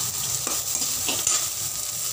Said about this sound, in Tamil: அதை கிளறி விட்டுட்டு 1-2 நிமிஷம் வதக்கி விடுறோம்